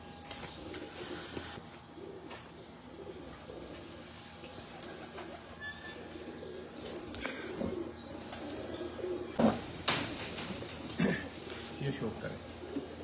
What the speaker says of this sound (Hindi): ये मेरा 30 नंबर कबूतर है